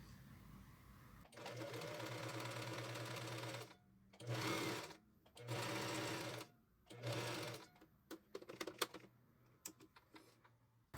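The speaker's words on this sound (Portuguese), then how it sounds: "E vou passar uma costura aqui na beirada." A sewing machine stitches bias binding onto the edge of a sleeveless blouse, running in steady bursts that stop and start four times. Quieter ticking and handling follow.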